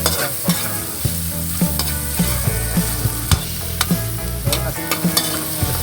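Sliced hotdog and chicken liver are stirred in a frying pan, the utensil clattering against the metal at a fairly regular pace over a loud, steady sizzle, close up and without talk.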